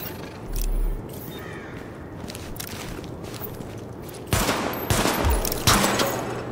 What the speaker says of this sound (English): Open fire at the highlighted targets.